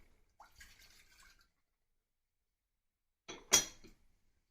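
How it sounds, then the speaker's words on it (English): Vinegar and white wine poured into a pan for Béarnaise sauce: a faint short trickle early on, then a louder brief splash and pour near the end, with quiet gaps between. "So I'm gonna start with adding the vinegar,"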